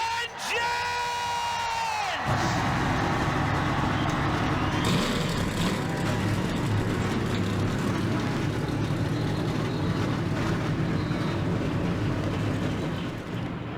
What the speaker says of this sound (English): fire the engines up here in Illinois. Drivers, start your engines!